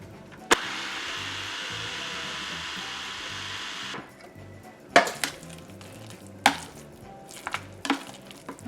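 A food processor whirs loudly while blending hard pumpkin into puree, running steadily for a few seconds before stopping, followed by sharp clunks and knocks from the machine and bowl.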